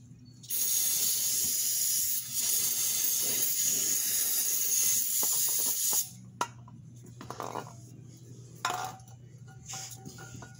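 Brake cleaner sprays in a long, loud, continuous hiss lasting several seconds during a vehicle service, then comes in a few shorter bursts and quieter spurts.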